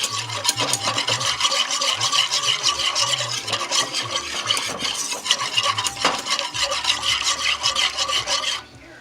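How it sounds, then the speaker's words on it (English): A whisk scrapes and beats briskly through a sauce with nutmeg and paprika in a pot for lobster and shrimp Newburg, with continuous close rhythmic stirring and metallic rubbing that stops abruptly near the end. "We're going to whisk that all together and bring it to boil."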